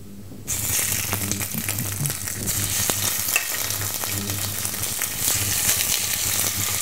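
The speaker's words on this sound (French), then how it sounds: "on va attendre que l'huile soit extrêmement chaude et fumante pour bien colorer les morceaux de poulet" Chicken pieces crackle and sizzle in extremely hot, smoking oil, a dense steady spatter with occasional louder pops, close up and uninterrupted.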